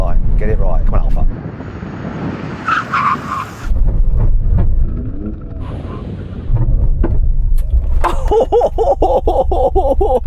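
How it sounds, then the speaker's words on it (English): Several performance cars, a BMW M4, Audi RS6 and Alfa Romeo Stelvio Quadrifoglio, brake hard from 70 mph side by side on a track, giving loud tire squeal and engine roar with wind buffeting and brief voices. "we're going to do a brake test from 70 miles an hour when we hit the line"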